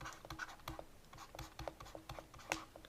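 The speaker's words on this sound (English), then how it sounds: "let me write out SOHCAHTOA" Pen on paper writes out a short trigonometry mnemonic, a series of quick, faint scratching strokes in an irregular rhythm with small taps, very close and quiet with no voice.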